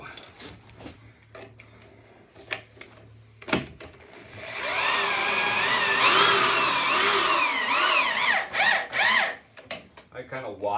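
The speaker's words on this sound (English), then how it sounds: "I kind of watch it as I drill it in." A power drill whirs steadily as it drives a lag bolt into a wooden log bed, with its pitch rising and wavering under load, preceded and followed by clunks and handling knocks.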